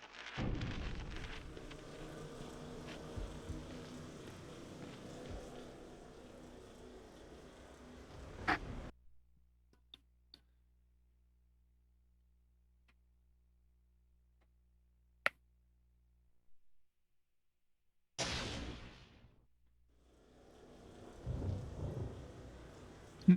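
Rain and rolling thunder in The Bard's Tale on PS2: a dense steady downpour with rumbling bursts, then near-silence broken by a sharp crack, before the rain and thunder surge back loudly.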